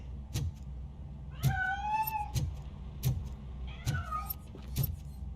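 Cat meowing in RoboCop: Rogue City, hidden inside a piano: two drawn-out, wavering meows over a low ambient hum, with regular soft clicking or tapping sounds recurring throughout.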